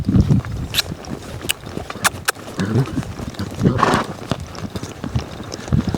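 A colt-starting session, with a horse loping in a rhythmic series of hoofbeats thudding on the ground, mixed with scattered clicks and rustling, fairly close.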